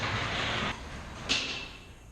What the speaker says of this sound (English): I think it's just gonna be a creaky garage